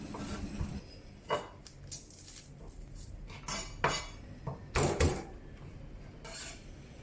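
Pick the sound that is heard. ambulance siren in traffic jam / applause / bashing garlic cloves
bashing garlic cloves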